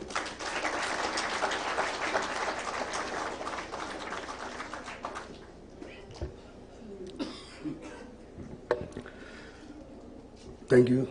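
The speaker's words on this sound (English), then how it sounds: "Please welcome him with a big round of applause" Audience applause welcoming the chairman of Noble Bank to the stage at an international conference, a dense wash of clapping for about five seconds that thins into scattered claps, coughs and murmurs.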